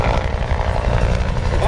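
A Huey helicopter, flying as a troop-transport slick at a Vietnam War re-enactment, gives a loud continuous rotor thrum and engine roar that fills the whole moment.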